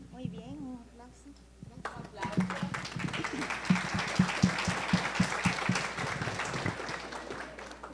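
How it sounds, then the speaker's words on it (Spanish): Audience applause at a live reading event, starting after a brief spoken moment and building into a dense, sustained round of clapping that holds steady to the end. "Muy bien, un aplauso."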